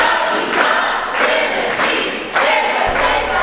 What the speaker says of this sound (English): Dancing, cheering, and even trumpet playing.